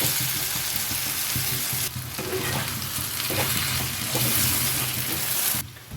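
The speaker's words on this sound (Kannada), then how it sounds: "ಮಸಾಲೆ ಸರಿಯಾಗಿ ಫ್ರೈ ಆಗಬೇಕು ನೋಡಿ ಈ ಥರ ಫ್ರೈ ಆಗಿದೆ" Masala and tomato fry in ghee for an Udupi-style blue mussels ghee roast, a loud, dense, continuous sizzle with faint stirring, briefly dipping midway and easing off at the very end, with no voices.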